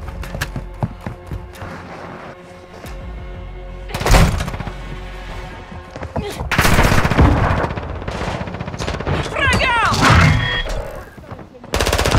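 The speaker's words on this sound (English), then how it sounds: "I'm taking enemy fire." Sustained automatic gunfire in Call of Duty: Modern Warfare II, with repeated rapid bursts and louder volleys that swell and fade over game ambience, sharp cracks standing out near the middle and end.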